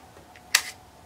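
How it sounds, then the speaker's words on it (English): A single short, quiet mechanical click from the shutter release of an unused Seagull 4B-I Chinese twin-lens reflex camera set to B, alone in a near-silent room. "As I say, the shutter works on it."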